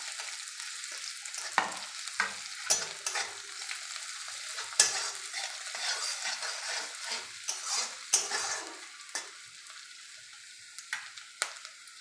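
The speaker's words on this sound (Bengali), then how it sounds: "এবার দেব কাঁচা লঙ্কা কুচি, রসুন কুচি, আদা কুচি। এবার ভালো করে ভেজে নেব।" Chopped green chilli, garlic and ginger frying in a pan for aloo kachori, a thin steady sizzle punctuated by repeated sharp clinks and scrapes of a spatula against the metal, no talking.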